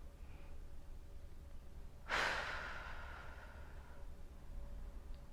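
A single deep breath during a yoga practice, a breathy exhale rising abruptly and trailing off over about two seconds, close and soft against a quiet room.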